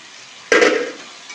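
Paneer cubes tipped into a pan for butter paneer, a short close burst of soft clatter and light sizzle that tapers off into quiet stirring.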